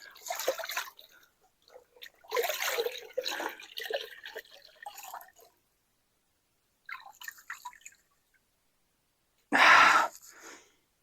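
A clean water rinse sprays over an AXP Xtrem skid plate from a Beta 390 motorcycle in close, irregular hissing bursts separated by pauses, ending with one short, loud blast of spray.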